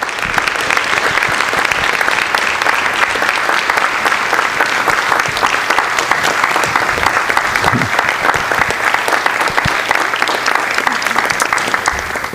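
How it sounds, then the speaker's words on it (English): A school board meeting audience gives honored high school students a sustained round of applause, loud and even clapping from many hands that never lets up. "So how about another round of applause for all of our student recognees?"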